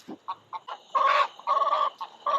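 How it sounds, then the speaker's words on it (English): Several chickens, including a Black Orpington hen, cluck in short repeated bursts at close range, with louder, longer squawking calls in the middle and end, alone without talk. "Here comes another chicken."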